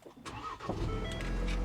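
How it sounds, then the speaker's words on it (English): A Ford Bronco engine cranks and catches after a push-button start, then settles into a steady, close, loud idle rumble with no talking over it. "let's push the little engine start."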